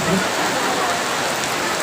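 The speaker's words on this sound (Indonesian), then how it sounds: "Hujan nih." Steady rain pours down without a break, a dense, even hiss of drops striking surfaces that holds a constant level from start to finish, with no voices.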